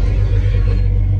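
A Jeep XJ engine rumbles deep and close at idle, a loud, steady low throb lasting about a second.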